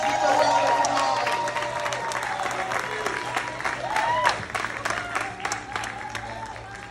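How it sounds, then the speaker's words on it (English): An audience applauds at a New York City speaking event, loud clapping with cheers and whoops over it, gradually thinning toward the end. "Give a round of applause"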